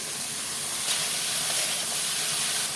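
Chopped ridge gourd hits a hot pan with ginger-garlic paste, turmeric, cumin and coriander powder, giving a loud, steady broadband sizzle and hiss heard close up for a few seconds with no talking.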